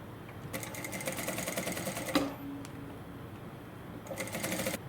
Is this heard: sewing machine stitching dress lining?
yes